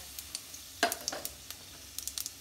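Cumin seeds and whole garam masala roast in a hot pan for palak paneer, giving a soft, steady sizzle broken by scattered crisp pops and crackles.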